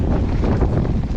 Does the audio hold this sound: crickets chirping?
no